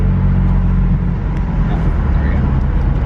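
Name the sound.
BMW M4 F83 exhaust while city driving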